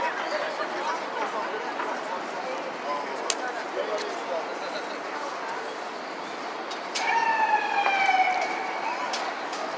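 A police car siren wails in an outdoor city street scene, rising partway through over a bed of traffic and crowd noise, with a voice talking underneath.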